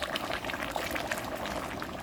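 Pot of smoky village party jollof rice boiling steadily, a dense bubbling and popping simmer heard up close with no voices.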